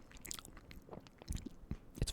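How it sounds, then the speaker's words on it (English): Someone bites and chews a stale Walmart cream cheese danish close up, soft crunches and wet squishing chews coming in uneven bursts at a quiet, intimate level. "This is probably gonna be a bit more of a crunch than it should be."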